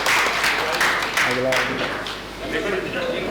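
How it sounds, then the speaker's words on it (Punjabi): An audience applauds an award recipient at the Waris Shah International Award ceremony, a burst of clapping that fades partway through, with a voice heard over it. "ਡਾਕਟਰ ਅਕਬਰ ਅਲੀ ਗਾਜ਼ੀ ਸਾਹਿਬ ਵਾਸਤੇ ਭਰਪੂਰ ਤਾਲੀਆਂ ਜੀ"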